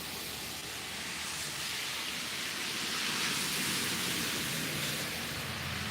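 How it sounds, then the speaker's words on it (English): Steady rain falling continuously, a dense even hiss of drops with no voices. "it's a steady, good steady rain"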